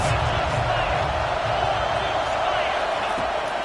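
Crowd noise in a college football video game swells as a broad, steady roar of cheering through a tense third-down moment, with commentary running over it.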